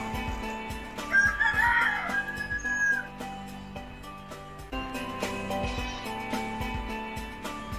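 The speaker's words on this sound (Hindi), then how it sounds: "ये मुर्गा है देसी" A desi rooster crows loudly and close by, one long drawn-out call rising and then trailing off, outdoors near a village mosque and pond, with faint background noise and no talking.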